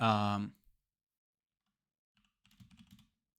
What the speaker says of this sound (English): I need to just finish typing this.